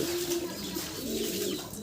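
A pair of Lahori pigeons give soft, close, low coos, repeated in a short throaty phrase.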